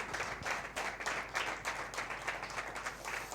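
Sustained applause from a large church congregation, dense and steady clapping filling the room without pause.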